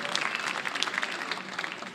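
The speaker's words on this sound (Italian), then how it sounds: "un applauso al sindaco Marrico" Audience applause for the mayor at a concert in Lenola, a steady wash of many hands clapping at moderate volume for two seconds, with no voices rising above it.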